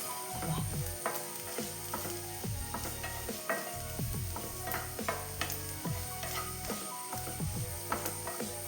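Sliced onions sauté and sizzle in a pan for a Kannur-style onion curry, a steady bright frying hiss with repeated scraping and stirring clatters from a utensil against the pan.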